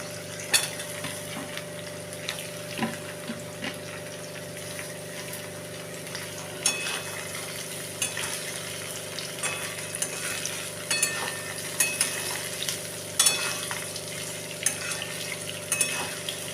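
Ridge gourd and potato pieces fry in hot oil with ginger and garlic, a steady soft sizzle broken by occasional scrapes and clinks of stirring, moderately close with no voices.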